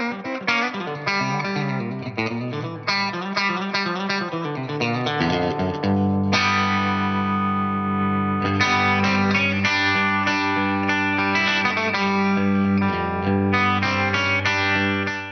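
Electric guitar played through an Echoplex preamp with slapback delay into a limited-edition Fender Princeton Reverb amp, a steady run of chords and notes with a sustained tone, loud and close, with no talking.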